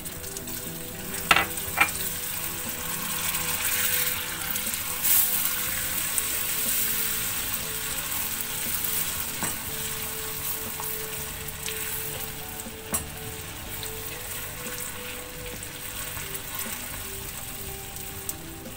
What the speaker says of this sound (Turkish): Şimdi tereyağını ilave ediyorum.